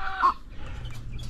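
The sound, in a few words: chickens clucking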